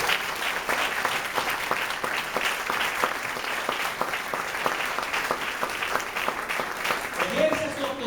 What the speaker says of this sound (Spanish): Yo le doy un aplauso al Señor por ese plan.